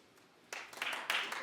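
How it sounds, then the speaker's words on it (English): Studio audience of a daytime talk show clapping: after a quiet moment, a short burst of applause from a small crowd swells in, moderately loud, with a second surge toward the end. "Clap if you're upset."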